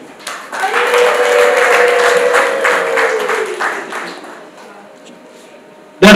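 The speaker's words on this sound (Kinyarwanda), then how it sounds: "amashyi n'impundu" Applause and ululation at a wedding: loud, sustained clapping from a crowd with a high, wavering trilled ululation running through it. Both fade toward the end before a sudden loud burst.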